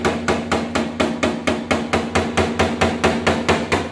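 Paintless dent repair in a workshop: a small hammer taps rapidly and evenly on car body panels, about four strikes per second, close and steady with a low hum beneath and no voices.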